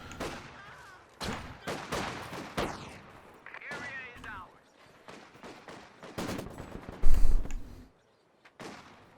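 Maxim machine gun fire in the Company of Heroes 2 battle game, bursts of rapid gunfire mixed with other shots and explosions, coming in irregular clusters with some booming impacts.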